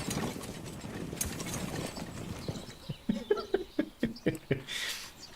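A horse pulling a cart in the Manor Lords video game clops along in a quick run of sharp hoof strikes after a busy stretch of village noise, with faint creaking wheels and a bird or two.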